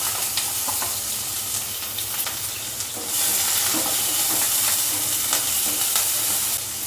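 Onions frying in oil in a kadai, a steady bright sizzle that swells louder midway and holds, with faint stirring clicks, close by and without talk.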